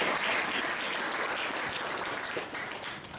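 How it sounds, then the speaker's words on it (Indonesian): An audience at a cooperative gathering claps in a dense, steady burst that holds for about three seconds and eases slightly at the end, moderately distant, with no speech over it. "Jadi tepuk tangan buat koperasi."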